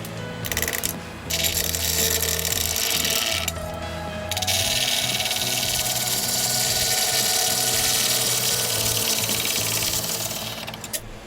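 A woodturning lathe spins a padauk and poplar segmented bowl held in jaws while a tool flattens its face, giving a loud, steady hum with a broad scraping hiss that drops out twice in short breaks, no voices.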